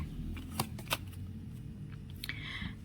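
Tarot cards shuffled and drawn nearby, with quick flicking riffles and a couple of sharp card snaps over a low room murmur.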